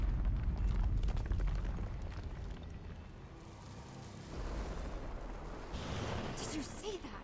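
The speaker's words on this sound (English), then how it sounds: "That bloodstone explosion seemed to trigger some sort of magical echo." A bloodstone explosion in the video game Guild Wars 2 rumbles as a deep, sustained eruption with roaring low tones. It eases off midway and then swells again with crackling, shimmering bursts toward the end.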